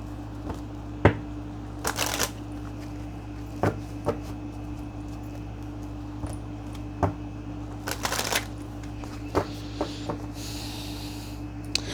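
Cards from an emotional intelligence deck shuffled alone in a quiet room, sharp riffling bursts and scattered light snaps of the deck at irregular intervals.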